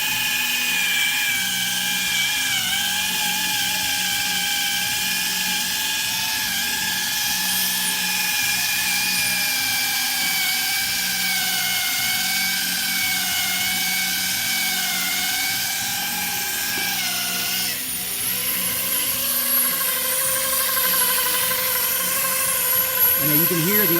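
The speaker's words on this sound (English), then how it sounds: "you can hear the RPM coming down on the machine because of the caution that she's using around the painted surface" A machine polisher works on the headlight of a 2012 Cadillac SRX, running a steady high-pitched whine that dips in speed partway through and then climbs again, close and continuous.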